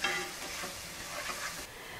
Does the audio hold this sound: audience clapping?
no